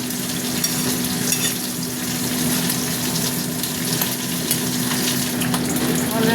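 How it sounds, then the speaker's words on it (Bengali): Vegetable stems being stirred in a frying pan, a steady broadband sizzle with scattered scraping clicks, close and continuous, with a constant low hum underneath. "এটা দিয়ে একটু নাড়িয়ে মিশ্রণ করে দিই।"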